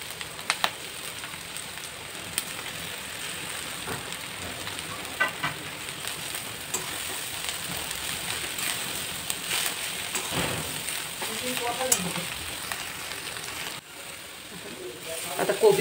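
Shredded cabbage sautés in a pan for a veg roll filling. A steady broadband sizzle runs throughout with scattered clicks from stirring, and faint voices sit in the background.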